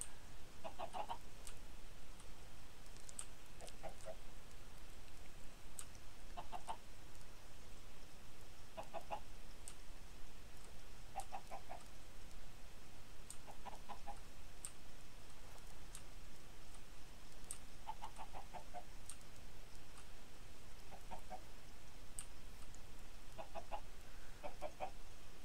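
Blocky video-game chickens cluck in short, regular bursts every couple of seconds, moderately loud over a steady background hum, with no talking.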